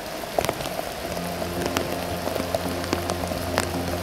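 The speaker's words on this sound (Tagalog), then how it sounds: "kaso malakas ang ulan" Steady heavy rain drums on a nearby surface on a mountain trail in Palawan, a dense constant patter with occasional louder drops and no voices.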